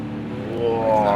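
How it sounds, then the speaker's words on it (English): A Porsche GTE race car in a racing video game sweeping past, its engine note rising in pitch and swelling louder toward the end of the brief pass. "There goes Dredd on the Porsche."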